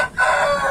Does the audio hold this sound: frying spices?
no